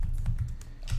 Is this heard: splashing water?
no